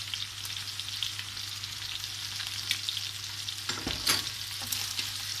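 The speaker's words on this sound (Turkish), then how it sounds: "Şöyle bir karıştırıyoruz." Chicken and vegetables with spices and salt frying in a pan for a chicken pan kebab, a continuous close sizzle broken by a louder burst of stirring and scraping partway through, no voices.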